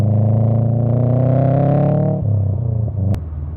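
A car engine revs while downshifting from third to second gear on an uphill road: a loud, steady harmonic drone that climbs, then dips and lurches through the shift, with a brief sharp click near the end.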